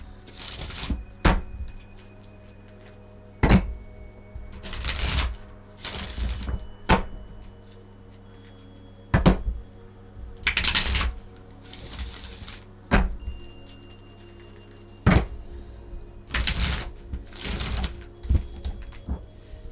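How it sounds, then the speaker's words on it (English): Tarot cards are riffled and shuffled in repeated bursts, crisp rustling flurries separated by short pauses, with occasional taps close by. "So let's get into it by shuffling these cards."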